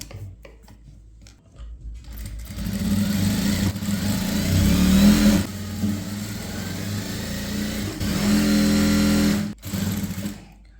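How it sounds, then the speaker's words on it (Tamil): Electric sewing machine runs in sustained whirring bursts while stitching the neckline of a cotton A-line kurti, speeding up and slowing with short pauses between runs, close and loud with no talking. "வச்சுட்டு 1/4 இன்ச்சில் ஒரு தையல் போடணும்."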